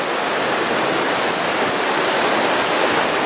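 A loud, steady roar of a rushing, muddy snowmelt stream, constant and close, with no voices or other sounds breaking through.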